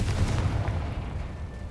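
A fiery Confringo blast spell goes off in the Hogwarts Legacy video game, a dense, booming low rumble that fills nearly two seconds at steady loudness with no voices.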